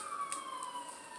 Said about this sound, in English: I got my window open, guys, so here comes the ambulance.